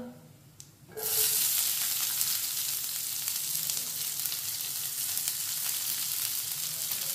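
Bitter gourd and finely chopped onion hit a hot pan after a second of quiet, then fry with a loud, steady, close sizzle and hiss that keeps going without a break.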